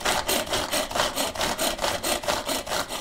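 A hand-pulled cord onion chopper mincing onions very finely, giving steady repeated rasping, scraping strokes in an even rhythm, close and fairly loud with no talking.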